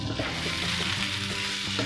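Chopped leftover chapati pieces and egg are tossed in a hot pan, giving a dense, continuous close sizzle with scraping stirs throughout.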